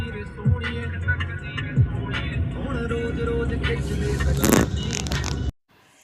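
A cab car climbing a steep mountain road, engine droning steadily with bumps, scrapes and rattles inside the cabin, a voice briefly audible, before the sound cuts off abruptly.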